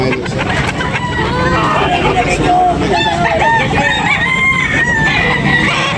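Several roosters crow repeatedly amid clucking fowl at a busy chicken market in Tabunok, Talisay, Cebu, overlapping calls rising from a noisy bed of chatter and people talking nearby.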